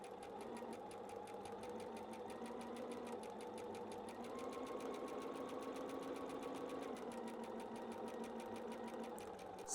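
A sewing machine stitches patchwork fabric in a steady, rapid run of needle strokes, close and continuous with no pauses and only faint background hum.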